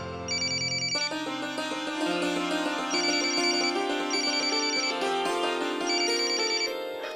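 A telephone ringtone plays a continuous melodic electronic tune with repeating high warbling chirps, steady and prominent with no talking.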